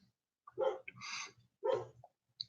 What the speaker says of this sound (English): Can y'all hear Chino barking?